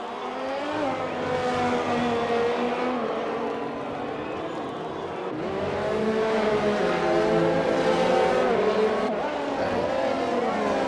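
Race cars in a sim-racing Vietnam Grand Prix roar continuously on track, with engines revving and shifting pitch as they pass, loud and steady under a commentator's voice.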